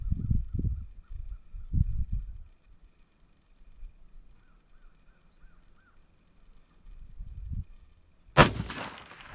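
A single sharp, loud rifle shot cracks out at an outdoor shooting range near the end, after a stretch of quiet low rumbling and faint background bird chirps.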